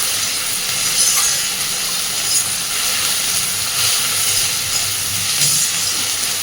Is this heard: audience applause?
no